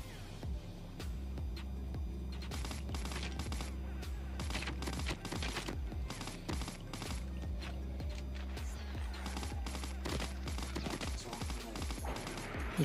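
Video game gunfire crackles in rapid bursts and sustained volleys throughout, a dense, busy exchange of shots at moderate distance with a low hum underneath.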